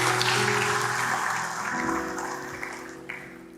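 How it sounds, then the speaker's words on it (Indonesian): A church congregation applauds during a sermon, producing a dense, steady wash of clapping that slowly fades, heard over a sustained backing of organ or keyboard chords. "Berikan tepuk tangan bagi Tuhan."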